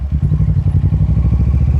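A 2015 Kawasaki Versys 650 motorcycle engine on a test ride, a loud, close, steady low throb pulsing rapidly and evenly throughout, with no voices over it.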